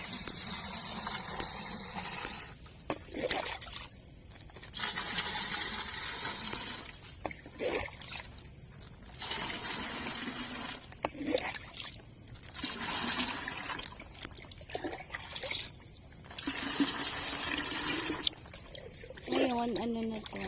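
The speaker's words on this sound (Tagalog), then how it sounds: "Dilig na namin yung swamp." Water splashes and pours in bursts while a swamp garden is watered at night, intermittent gushes and trickles interrupted by pauses, with people talking between them.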